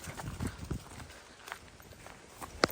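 A horse with a rider passes on a quiet walking path, a few soft hoof clip-clops spaced out at a walking pace, faint and a little distant amid outdoor background noise.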